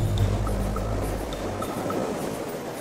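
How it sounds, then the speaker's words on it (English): Ocean waves surge inside an Australian coastal sea cave, making a loud, continuous rumbling wash that echoes and swells through the rock chamber. "You can hear the sound of the ocean magnified by this wonderful chamber of"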